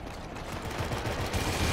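A quick burst of rapid gunfire in the video game Draw to Death, repeated shots in a fast rattling rhythm, loud and close, with no voices.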